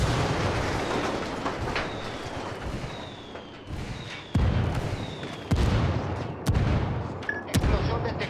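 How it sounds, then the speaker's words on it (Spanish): Indirect artillery shells exploding during Ghost Recon Wildlands gameplay, a series of loud booming blasts and sharp cracks in rapid succession over a continuous rumbling battle backdrop, with faint whistling streaks between impacts. "Explosión detectada."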